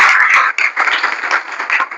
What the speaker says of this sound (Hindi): चलिए तालियां बजा दी इसके लिए,